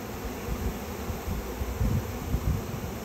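Bees clustered around the queen inside an open hive, giving a steady, dense buzzing hum with no pauses, close and fairly loud throughout.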